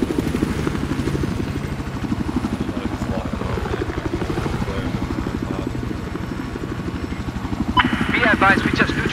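A helicopter's rotor thumps in a fast, steady rhythm close by in the video game Battlefield 4, loud and continuous, with brief voices and beeps near the end.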